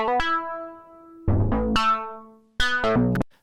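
A melodic techno synth bass patch plays a short phrase of separate notes with no glide between them. Each note jumps straight to its pitch and then decays, across three plucky phrases in a dry, close sound.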